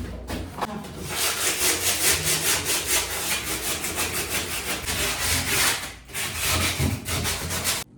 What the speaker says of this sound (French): donc là tout est poncé, lavé